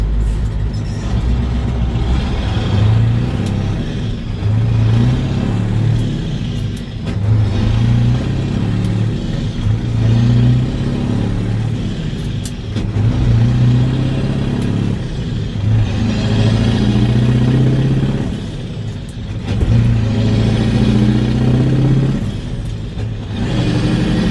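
A CAT truck with a two-speed axle drives and works through its gears, its engine loud and steady throughout with a low rumble that swells and drops as it revs and shifts.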